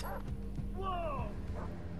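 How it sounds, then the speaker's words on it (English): Dogs in the video game Far Cry 3 giving a short whining yelp and whimper over a low, steady game background hum, fairly faint and brief. "The two little ones are just dogs."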